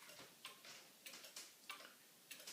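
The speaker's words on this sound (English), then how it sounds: "This is a magnificent cuckoo clock made by Johann Beha." A Johann Beha cuckoo clock ticking quietly and evenly, with soft clicks in a regular rhythm over faint background hiss.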